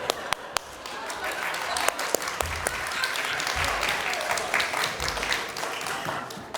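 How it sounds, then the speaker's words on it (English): A church congregation claps hands together in a sustained, lively burst of applause with a few sharp individual claps, while voices talk over it. "You just clap your hands and go, come on."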